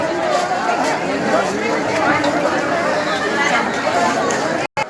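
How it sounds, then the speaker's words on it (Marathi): Devotees crowding the Rajmath temple during the Ashadhi festival, a steady close hubbub of many overlapping voices chattering at once, continuous and fairly loud. "या ठिकाणी प्रसाद वंदनासाठी, आषाढी देवपूजा वंदनासाठी राजमठात भक्तगणांची गर्दी।"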